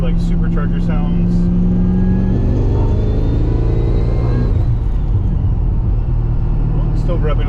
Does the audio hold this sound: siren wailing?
no